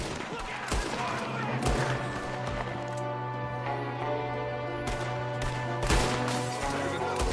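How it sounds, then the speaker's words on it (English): Enemy gunfire in a Red Dead Redemption 2 shootout, with repeated sharp rifle and pistol shots at uneven intervals over a steady background hum, some close and loud, others more distant. "There's another one shooting from the window."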